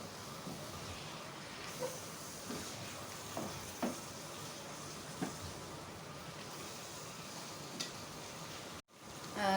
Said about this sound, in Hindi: अच्छी तरह से मसालों के साथ भूनें कीमे को।